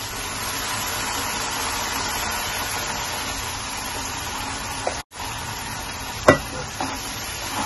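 Ground Malvani masala paste fries in hot oil with a steady, close hiss of sizzling, broken near the end by a few sharp scrapes and clinks of stirring.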